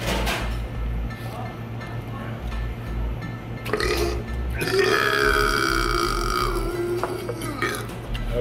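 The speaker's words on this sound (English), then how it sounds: "That was a good burp." A loud, long burp rolls out after eating a giant 16-pound pizza in an eating challenge, close and drawn out over several seconds with low rumbling and a rising tail.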